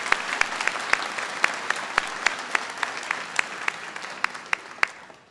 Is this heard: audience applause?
yes